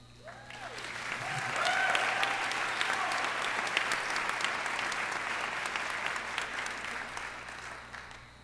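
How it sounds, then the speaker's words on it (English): Audience applause at a university journalism school commencement swells after a brief start and holds steady as a broad, continuous clapping crowd for several seconds, with no talk over it. "actually, you can clap anytime you want, I don't care."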